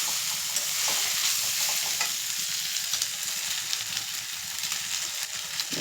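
Egg fried rice stir-fried in a pan over high flame, with a continuous loud sizzle and repeated scraping and tossing strokes from start to finish, with no talking.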